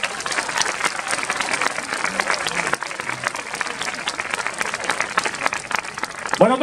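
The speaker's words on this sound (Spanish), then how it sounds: "merece un aplauso más fuerte de gusto" A festival audience claps loudly and continuously for a local artist at the Fiestas de Sádaba, a dense close patter of many hands with some cheering mixed in.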